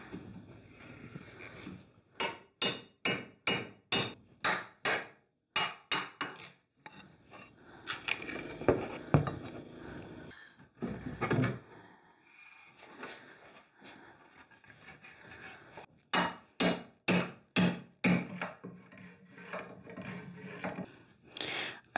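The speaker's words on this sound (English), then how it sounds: "with a crowbar, you can remove it" A crowbar pries the feet off an old, bulky wooden dresser, giving rapid runs of sharp knocking strikes alternating with stretches of scraping, creaking wood, fairly quiet and close.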